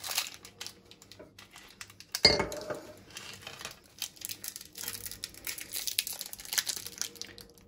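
Fruity Duos snack packets being torn open and handled up close, with quiet plastic crinkling throughout and a sharp rip partway through, over faint room tone.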